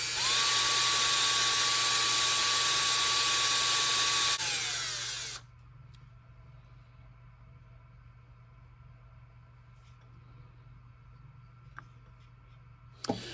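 An electric drill motor with sparking brushes runs loud and high-pitched up close for about five seconds, then winds down and stops, leaving near silence with a couple of small clicks.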